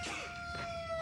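Rooster crowing in a NyQuil cold medicine TV commercial, one brief cock-a-doodle-doo call heard up close with nobody talking over it.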